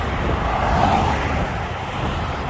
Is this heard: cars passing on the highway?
yes